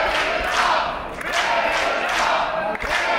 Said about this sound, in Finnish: Yleisö lähes turboksellisen mantran tavoin huutaa tällä Reginan nimeä.